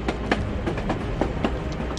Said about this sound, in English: of course there's a train coming.